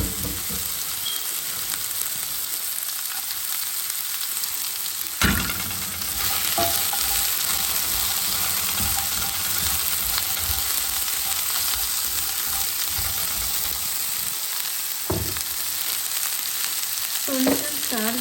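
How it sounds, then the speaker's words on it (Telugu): Cut okra pieces fry in a HexClad skillet with a steady, loud broadband sizzle throughout, broken by a few sharp scraping stirs and clatters of the spatula against the pan. "ఇప్పుడు బెండకాయ కట్ చేసిన బెండకాయ ముక్కలు వేసేస్తున్నాను"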